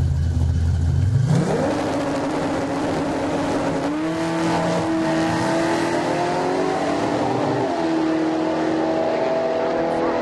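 A 1974 Chevy Vega running naturally aspirated in Pro Street at HOT ROD Drag Week, Heartland Park Topeka, launches alongside another car, engines revving up in a loud, rising, sustained roar with gear-change steps over crowd ambience.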